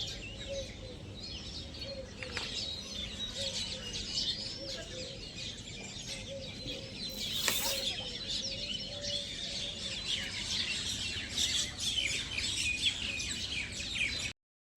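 Sparrows feeding on scattered grain chirp and twitter continuously in a busy chorus, with a brief louder burst midway. No one speaks.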